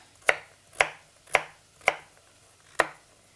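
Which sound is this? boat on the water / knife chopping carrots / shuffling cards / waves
knife chopping carrots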